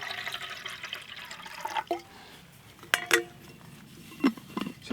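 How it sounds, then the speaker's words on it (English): About 12 ounces of water pour into a pot set up on a perlite alcohol burner, giving short splashing gurgles among a few clinks of metal, close and intermittent. "I'm going to put a little water in here, and we'll see it at work."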